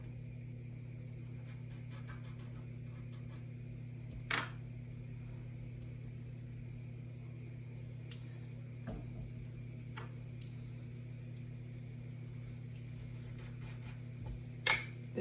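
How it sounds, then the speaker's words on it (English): Corn cakes frying in hot oil, a faint, steady sizzle under a low hum, broken by a few soft clicks and taps. "Just throw them in your hot oil."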